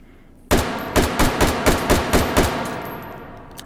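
Full-auto bursts from an M4-style rifle in the shooting game Hot Dogs, Horseshoes and Hand Grenades: a sharp opening shot followed by a rapid, evenly spaced string of about eight loud reports that fade into a ringing tail.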